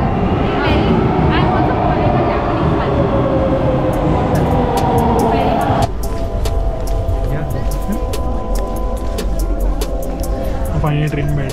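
Onboard a Japanese train travelling from Fukushima to Osaka, with steady rumbling cabin noise and rail hum throughout, a shift in tone partway as the ride continues, and people talking over it.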